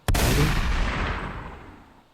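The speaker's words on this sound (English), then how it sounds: "Now you just gave me more gunshots." A single loud gunshot cracks sharply, followed by a long booming echo that slowly fades out over two seconds.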